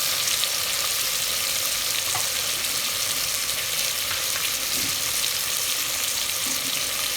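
Potato pulao fries in a pot with a continuous sizzle, broken by soft scrapes and shuffles as the mixture is stirred.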